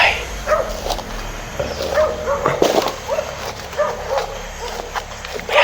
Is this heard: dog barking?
yes